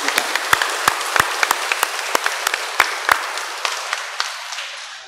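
Applause from a church congregation for children receiving their first communion at a parish Mass, a crowd of hands clapping steadily with sharp individual claps standing out, gradually thinning and fading toward the end.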